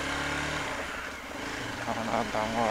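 A motorcycle pulls away at the start of a ride from Kolkata toward Tarapith. A close, low engine hum grows into a rougher, rising rev.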